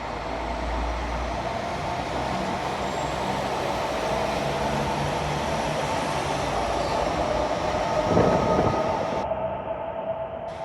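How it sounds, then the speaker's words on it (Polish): A diesel locomotive pulling out of Wrocław Główny station on a train to Trzebnica. A steady mechanical rumble and drone, with a brief louder surge near the end, heard against platform ambience. "Ledwo wjechał Jeziorak, a już rusza spalinowóz do Trzebnicy."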